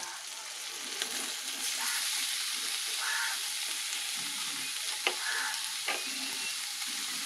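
Fish pieces are added to a spice paste frying in a pan, giving a steady broadband sizzle with a few scraping stirs and clinks of a utensil throughout.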